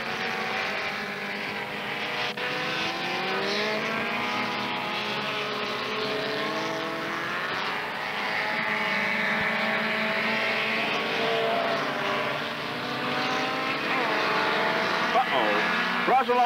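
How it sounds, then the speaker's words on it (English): Formula Super Vee race cars from the 1970s scream along a track. Their engines rise and fall in a continuous drone while a commentator talks over the racing. "These Super Vs are really eating up the track out there, probably doing 120 and more on the straightaway."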